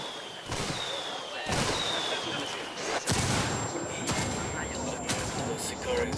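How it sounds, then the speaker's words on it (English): Mortar rounds called in by rebels land in Ghost Recon Wildlands, a string of booming blasts roughly every second, loud and close, with a sustained high whine and rumbling debris between impacts. "Mortars away."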